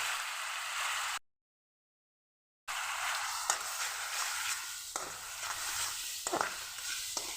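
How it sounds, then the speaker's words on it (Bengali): Ground spice paste with bay leaf being stirred and spread in a frying pan, a soft sizzle under repeated scraping strokes of a spoon, with a brief gap of silence early on. "মশলাটা একটু নাড়িয়ে ছড়িয়ে নেব।"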